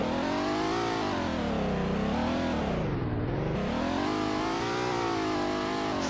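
A long, fast chauffeur car in the Greenville driving game revs hard, its engine note climbing, dipping and rising again in one loud, continuous drone with no talking.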